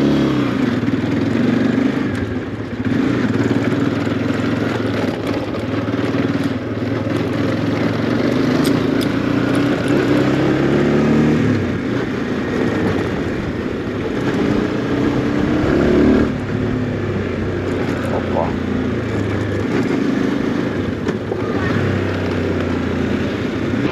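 A hot-running SYM NHT motorcycle engine drones steadily while riding, loud and close, with a low rumble that shifts slightly as the throttle changes.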